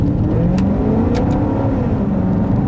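A 2008 Maserati Quattroporte Sport GTS accelerates with the windows up, its engine note a steady, muffled, rising drone heard from inside the cabin, loud and continuous with no talking.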